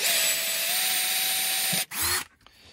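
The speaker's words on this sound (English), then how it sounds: "I'm going to use a smaller drill bit just to make a pilot hole" A power drill with a small bit whirs at a steady high pitch making a pilot hole, then cuts off briefly before revving once more and stopping.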